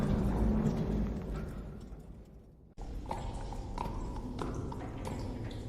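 Pit pony hooves clop on ground in a coal mine tunnel, a faint run of irregular hoof strikes heard alone, fading briefly midway before resuming with several sharper knocks.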